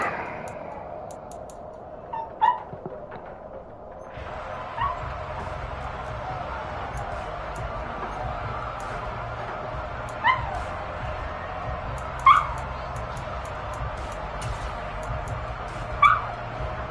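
A dog barks, yips and whimpers in short, scattered bursts, some sharp and loud, over a steady background hum that lasts throughout.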